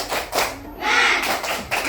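An Indonesian primary class does a rhythmic clapping chant with their teacher, several short bursts of claps and thuds from children close by, with voices mixed in.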